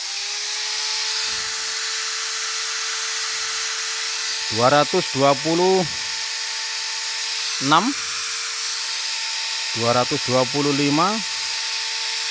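An electric drill runs steadily while its voltage is being measured. The motor gives a constant, even whine, and someone speaks briefly at three separate moments.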